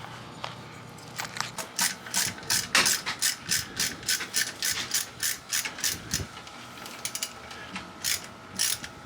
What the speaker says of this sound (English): So we've taken off the carburetor.